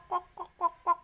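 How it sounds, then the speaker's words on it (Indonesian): A maleo bird gives four short, throaty calls in an even rhythm, each a brief nasal honk spaced roughly a quarter second apart, fairly close and clear against a quiet background with no voices. "itu burung maleo"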